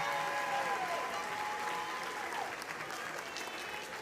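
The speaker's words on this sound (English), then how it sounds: "That's right, give all of them a round of applause." Sustained audience applause at a high school graduation ceremony, a dense, even wash of many hands clapping in a large hall for students standing to be recognized, holding steady for the whole stretch.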